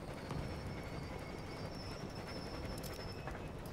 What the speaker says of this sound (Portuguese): eu vou parar o trem